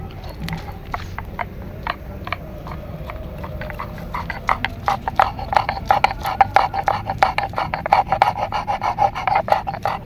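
Garlic being ground into paste by hand for kasundi chicken and cauliflower pakoras at a riverside picnic, a steady run of rapid rhythmic scraping strokes, close and continuous, with no talk.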